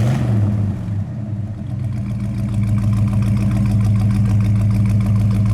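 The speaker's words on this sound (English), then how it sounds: "Rev it up a little bit." A 1970 Oldsmobile 442 engine runs steadily close by with a deep rumble through dual exhaust, its pitch rising and falling as it revs throughout.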